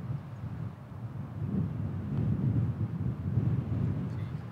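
Strong wind buffets the microphone on a golf course, a continuous low rumbling roar that swells and grows louder toward the end, with no voices over it.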